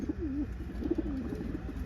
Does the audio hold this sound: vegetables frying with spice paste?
no